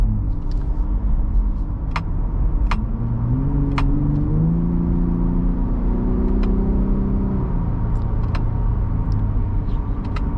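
A Ford F-150 Raptor truck with about 587 miles on it drives steadily, its engine humming smoothly and rising in pitch as it accelerates through gears, loud and continuous throughout.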